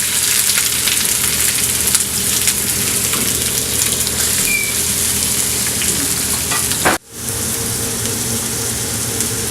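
Onions fry in two spoons of oil on a tawa while minced meat is cooked, making a loud, dense sizzle that continues steadily, briefly drops out, then resumes.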